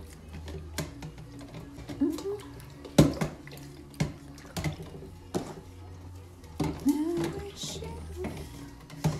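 Plastic parts of a Eureka Swan vacuum cleaner are dropped into water to soak, making soft splashes and sloshing sounds with a few knocks against the container, close and fairly quiet.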